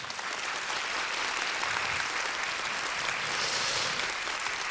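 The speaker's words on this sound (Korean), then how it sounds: "박수 부탁드립니다." Sustained audience applause fills the hall at an evening humanities lecture concert, a dense, even wash of clapping from a large crowd that holds at a steady level throughout, with no speech over it.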